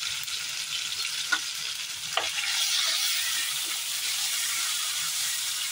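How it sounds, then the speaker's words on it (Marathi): Green chicken masala with turmeric sizzling and frying in a pan, a steady bright hiss with a few soft stirring scrapes, close and continuous with no talking. "व्यवस्थित परतून घेऊया"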